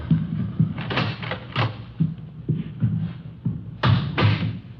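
In an old radio crime drama, a door is handled in a hotel room, with a series of dull thumps and knocks over a few seconds and soft footsteps, close and fairly loud.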